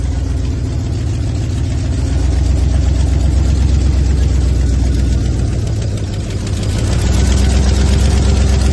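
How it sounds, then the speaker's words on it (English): A 1994 Ford F-150 engine with an exhaust leak at the front idles steadily with a deep, rumbling drone and a faint rapid ticking puffing through it, continuous and close. "Oh yeah, she definitely got an exhaust leak."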